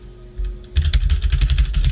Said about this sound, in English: I'm fully stoked you paid heaps for that fucking keyboard so I can hear you type